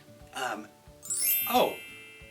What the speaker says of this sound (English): hey, our bell sound.